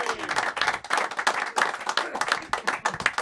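A studio audience applauds after a story about scoring a 23-yard goal, a dense burst of close, steady clapping that runs the whole stretch with faint crowd murmur beneath.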